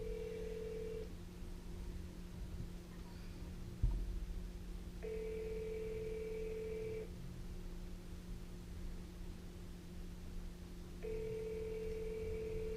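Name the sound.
outgoing telephone call ringing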